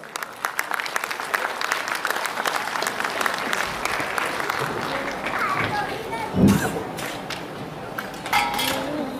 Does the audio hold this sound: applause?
yes